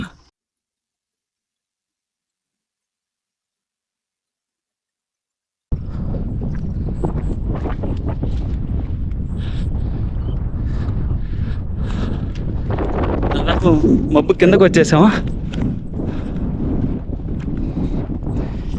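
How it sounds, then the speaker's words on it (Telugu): After several seconds of silence, strong wind under a rain cloud buffets the microphone in a loud, continuous rumble, with a brief spoken remark partway through. "ఈ మబ్బు కింద నుంచి ఎక్కువ గాలి. మీకు శబ్దం వినపడే ఉంటుంది."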